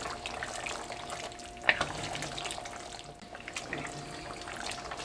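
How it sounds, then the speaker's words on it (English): Macaroni is stirred in a pot of hot water, giving soft watery swishing and sloshing with a brief sharp clink partway through, fairly close and with no talking. "We're just going to stir this around up in here."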